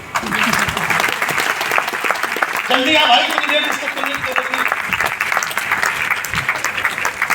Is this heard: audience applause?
yes